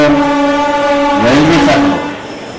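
A Vande Bharat superfast express train sounds a loud, sustained horn with steady harmonic tones that bend and shift midway, over the rumble of rail running, then eases slightly at the end.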